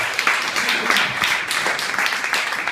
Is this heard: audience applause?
yes